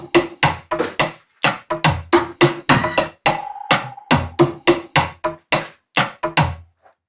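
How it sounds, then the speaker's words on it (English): Sharp, dry snare drum hits for an Afro-style beat, struck alone in a steady, syncopated pattern of about twenty close, punchy strokes, each with a quick decay. "So I had to begin with my snare, which sounds like this."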